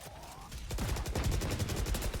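Gunfire in the video game Valorant during a competitive match: a rapid burst of automatic shots after a short lead-in, dense and continuous, heard fairly close.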